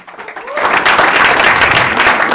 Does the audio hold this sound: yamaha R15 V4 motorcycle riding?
no